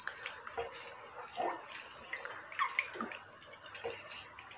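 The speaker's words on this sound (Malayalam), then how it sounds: "നമുക്ക് ഒരു കുറച്ച് വെള്ളം കൂടി ഇതിലേക്ക് ഒഴിക്കാം." Water pours steadily into a horse gram mixture being hand-mixed in a bowl, a close, wet trickle and splash with small irregular splashes, and no talking.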